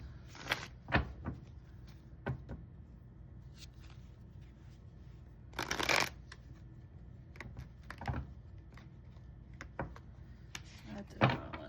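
A tarot deck being shuffled by hand, soft irregular riffles and card slaps with a few sharper clatters, close and quiet, pausing between bursts.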